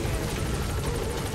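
Steady helicopter rotor and engine drone at a landing zone in Metal Gear Solid 5, a continuous broadband roar holding at even loudness with no voices.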